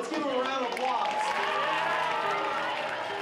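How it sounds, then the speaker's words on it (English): Audience at a school board meeting with citizenship awards, clapping in a sustained, moderately close round of applause with some cheering mixed in. "Let's give him a round of applause."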